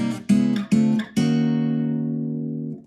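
Guitar chords ring out as the fretting hand keeps the same shape throughout, with three quick strums followed by a final chord left to sustain and slowly fade, played alone.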